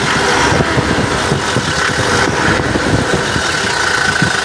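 An Isuzu Travis engine runs steadily at idle, its low mechanical rumble loud and close, with an even vibration and no voices.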